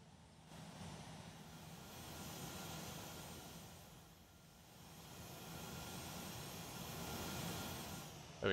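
A Boeing 737-800 in the Airport CEO video game gives a steady, faint jet engine roar that swells and eases gently, with no voices.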